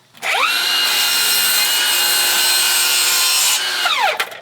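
Power saw with a fine blade cutting wood trim: the motor whines up, holds a loud steady high scream through one clean cut, then spins down, close with no voices.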